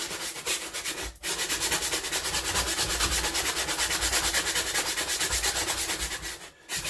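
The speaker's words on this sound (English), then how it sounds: "So we'll just give them magnets a bit of a sand up all the way around" Sandpaper rubs the flywheel magnets of a Briggs and Stratton 5hp engine in rapid, steady back-and-forth strokes, close and continuous, with two short pauses.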